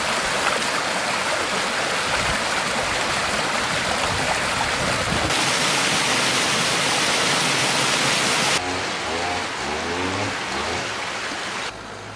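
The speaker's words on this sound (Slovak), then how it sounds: "Potok tvorí hlavnú kompozičnú os sídla." A village stream flows steadily, a loud, continuous rushing and babbling of water close by that holds at the same level throughout.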